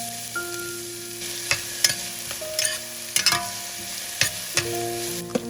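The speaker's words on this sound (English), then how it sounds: "Add your onions and sweat them down for 3 to 4 minutes." Onions sizzle steadily in a pan while a utensil scrapes and clacks against it in irregular sharp knocks, with a soft tonal hum in the background.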